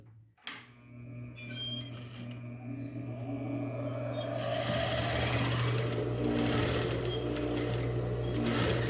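A sewing machine runs a safety seam along a dish towel. A few clicks come first, then a steady, fast stitching whir that holds at a constant loud level to the end.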